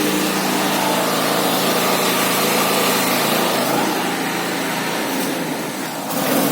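A petrol generator fitted with a dual-fuel carburettor runs on gas, a loud, steady, high-pitched engine drone that holds close and even for the whole stretch with no voices.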